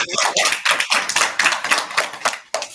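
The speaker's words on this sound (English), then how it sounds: "Round of applause." A burst of applause from a group at a live event in Zambia, steady hand claps filling the space with a few louder, sharper claps standing out near the end.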